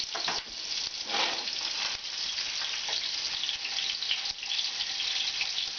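Meat browning in a big saucepan gives a steady, close sizzle and crackle, with faint stirring scrapes now and then and no talking.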